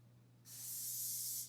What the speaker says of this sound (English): That's vegetable oil spray